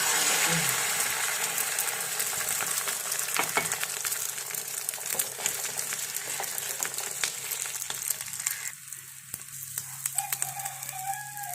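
Eggs with spinach, onion and green chilli fry in hot oil with a steady crackling sizzle, broken by occasional stirring clatter, and the sizzle drops quieter near the end.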